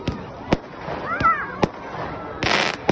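Fireworks cakes fired one after another at an outdoor demo show, a steady series of sharp loud pops about a second apart, with whistling, crackling bursts between them and people talking underneath.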